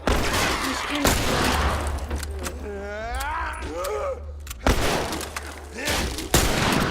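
Gunshots in The Last of Us Remastered: three sharp, loud cracks spaced a second or two apart, with a strained vocal cry rising between the first two shots over rumbling background.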